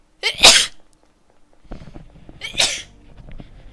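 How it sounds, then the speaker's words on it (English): Two sharp, loud sneezes about two seconds apart, close to the mic, with a brief rustle between them. "I'm sorry for my ear-piercing sneezes in y'all's ears"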